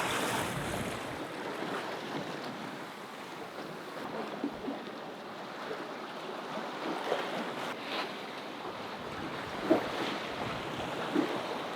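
Open Pacific Ocean waves roll past a sailboat on a long crossing, a continuous wash of surf and wind with a few soft knocks and splashes rising out of the steady roar.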